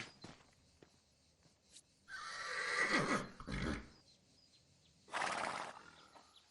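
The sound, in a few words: horse neighing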